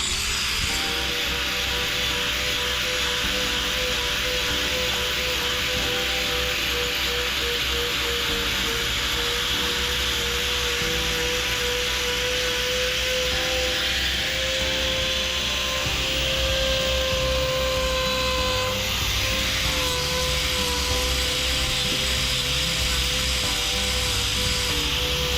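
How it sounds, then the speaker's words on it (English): A grinder trims a hoof with a continuous high whining buzz, close and steady, its pitch shifting slightly as the tool presses into the hoof and moves across it. "And with our grinder, we're able to really control and take exactly what we want."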